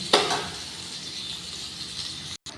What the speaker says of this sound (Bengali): আলুটা ভাজা ভাজা হলে তুলে নেব।